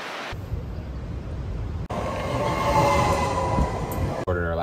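Passenger train on the Cinque Terre coastal line heading to Riomaggiore, a steady rolling rumble with wheel and carriage noise and faint squeals, a loud whoosh partway through, with faint voices in the background.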